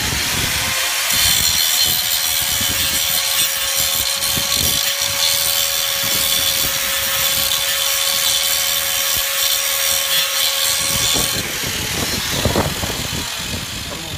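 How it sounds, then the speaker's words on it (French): A power grinder whines and rasps as it cuts through plastic pipe, running loud and continuous, then winds down near the end. "Et je vais le faire avec le grinder."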